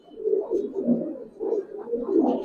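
Giribaz pigeons coo in a series of soft, low, throaty phrases close by, repeating rhythmically with brief pauses and no talking.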